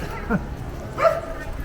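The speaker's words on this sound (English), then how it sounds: "Dog loses its mind." On a town street, a small dog gives two quick excited yips or barks, close and sharp, over a steady background of street noise.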